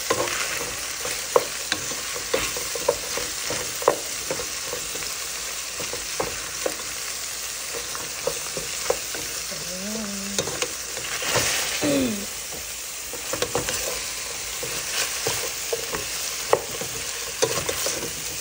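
Onion frying in a pan, a steady soft sizzle with scattered scraping and stirring clicks, close up and with no talking.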